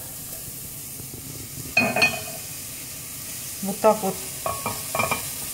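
Mushrooms hiss and crackle softly in a dry pan without oil while utensils scrape and clink intermittently; a person speaks briefly.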